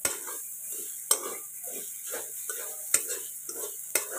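Grated coconut roasts in a pan for ukadiche modak, with sharp spatula scrapes and clinks repeating every second or so over a soft, close sizzle.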